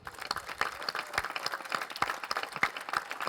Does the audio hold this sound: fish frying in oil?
no